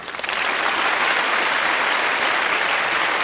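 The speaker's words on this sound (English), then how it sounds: "Please, big applause." A conference audience bursts into loud, dense applause after a talk. The clapping swells quickly and then holds steady and full.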